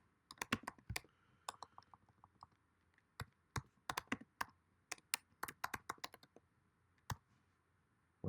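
Computer keyboard keys tapped in quick irregular bursts with pauses between, crisp close clicks at low overall level, a final heavier key press at the end, no talking.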